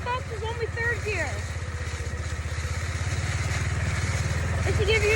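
A dirt bike engine runs steadily in third gear, a dense rapid firing pulse that grows slightly louder over several seconds, with a person talking over it.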